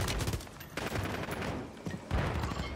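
Rapid bursts of gunfire from a Call of Duty Warzone (MW3) match, loud and close, with dense overlapping shots that ease briefly before another heavy volley near the end.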